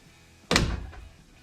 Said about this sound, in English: And the door closes nice.